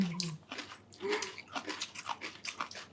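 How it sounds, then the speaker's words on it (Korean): Crisp, crunchy chewing of a Korean stir-fried potato salad side dish, a run of close bites and mastication sounds repeating steadily, with no talk over them. "이 아삭거리는 게 너무 좋지 않아요?"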